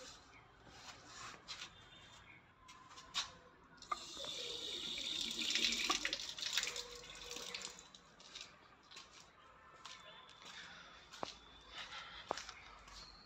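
Water runs from a steel tap into a basin in a house for sale, a soft steady splash that swells in the middle, with small knocks and handling sounds around it.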